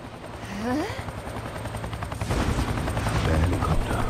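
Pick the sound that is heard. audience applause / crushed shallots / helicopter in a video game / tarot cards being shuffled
helicopter in a video game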